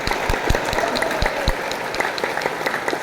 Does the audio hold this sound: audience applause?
yes